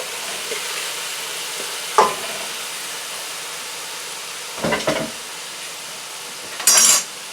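Bok choy is stir-fried in a frying pan with chicken drippings, with a soft steady sizzle and a few scraping clatters of a utensil against the pan.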